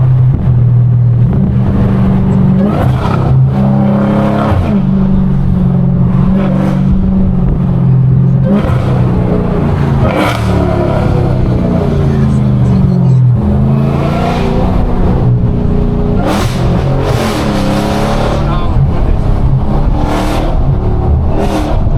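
A Dodge Hellcat on an East Atlanta road roars close and loud, its engine climbing through repeated revs and gear pulls over a sustained high-power drone with no speech.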